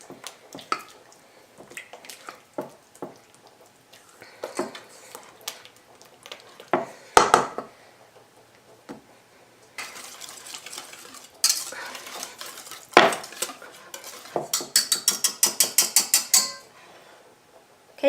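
Mashed banana and applesauce mixed in a bowl for vegan granola bars, with close utensil scraping and clinking strokes that build into rapid rhythmic beating toward the end, no talking.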